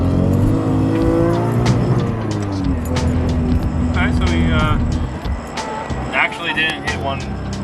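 A Toyota JZX100 fitted with an HKS fuel cut defender pulls hard in second gear, the engine note climbing loudly from inside the car before easing off, while a person talks over it.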